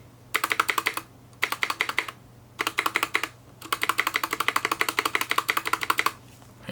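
Anne Pro mechanical keyboard with lubed switches being typed on close up, dense bursts of soft, rapid keystrokes in four runs separated by brief pauses, with no talking.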